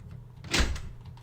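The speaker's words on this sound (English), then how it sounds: "Door is locked, won't open." A locked door in a video game rattles once, a short muffled thud with a brief clatter that fades within half a second, alone against a low ambient hum.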